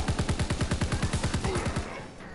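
A BAR automatic rifle in a World War II video game fires one long, steady burst of roughly twenty evenly spaced, punchy rounds at close range, then stops with a short fading tail.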